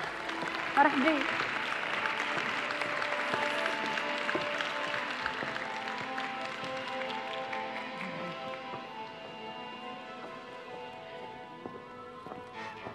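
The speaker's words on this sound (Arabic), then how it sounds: "تصفيق على سي حسن." An audience at the Carthage Theatre Days closing ceremony applauds a playwright and director, a broad, moderately distant wash of clapping that slowly fades, with a brief spoken greeting near the start.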